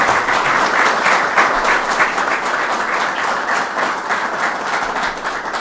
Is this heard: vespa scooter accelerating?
no